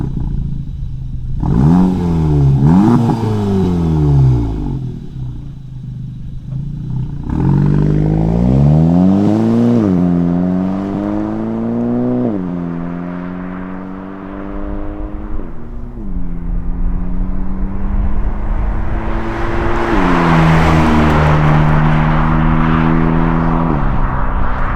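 A Volkswagen GTI fitted with an MBRP 3-inch cat-back exhaust accelerates onto the highway, the engine note climbing repeatedly through gears in rising sweeps with brief dips between shifts, loud and close.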